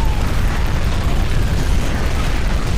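A dense, continuous roar of boss bombardment explosions in a StarCraft Arcade match, loud and unbroken with rumbling low end and no distinct gaps between blasts.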